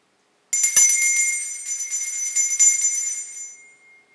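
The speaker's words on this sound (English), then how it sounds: "Should I ring the bell again?" A handheld bell rung once during a paranormal investigation at the Sodens Hotel in New South Wales, its bright metallic ring struck sharply and left to sustain and slowly fade over several seconds, with a faint second tap partway through, heard alone in a quiet room.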